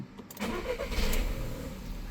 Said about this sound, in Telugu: ఒకసారి ఇంజన్ కూడా స్టార్ట్ చేసి చూపిస్తాను